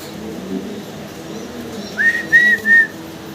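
Fancy pigeons at a pigeon farm, with a few soft cooing calls close by near the end over a low, quiet background of farm noise.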